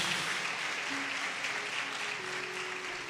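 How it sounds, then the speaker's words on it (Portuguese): A church congregation claps steadily during a sermon, a dense, even wash of applause filling the room with faint tones beneath it. "Você pode aplaudir ao Senhor por isso?"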